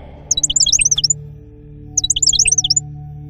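Caged birds kept by a queen chirp in two quick, bright bursts of rapid tweets about a second apart, close and clear over a soft low hum.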